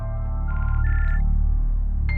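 A telephone rings in a French-dubbed drama scene, short electronic tonal bursts of the ring heard over a steady low background hum, fairly loud and close, with no speech during it.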